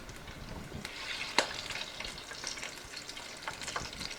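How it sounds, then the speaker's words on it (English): Battered soft shell crab fries in a small fryer, giving a steady, fairly quiet bubbling crackle with one sharper pop partway through and no voices. "I'm just going to put him in my fryer"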